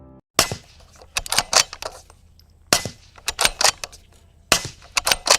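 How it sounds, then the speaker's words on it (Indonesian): Suppressed B&T SPR300 rifle firing subsonic 300 Blackout rounds: a string of sharp, dry cracks in quick irregular bursts, with brief pauses between groups, fairly close and loud. "suara tembakan senapan ini hampir sama dengan suara saat mengokang, bahkan lebih sunyi dari suara tepuk tangan"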